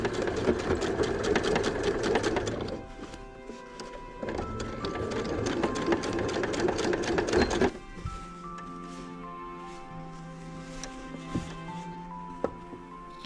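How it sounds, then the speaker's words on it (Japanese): A sewing machine stitches a diagonal seam through layered fabric scraps, running in loud, steady bursts with a brief pause between them, then stopping; quieter handling clatter follows. "斜めに縫う。"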